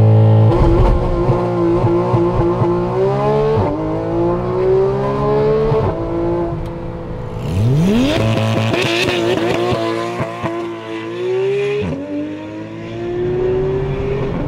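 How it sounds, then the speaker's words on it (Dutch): A Porsche GT3 with an open Akrapovic exhaust launches hard under launch control, its engine revving loud and close, rising in pitch through several gears with sharp shifts between them, and no voices over it. "Oké, 0 naar 100. We gaan het met launch control doen."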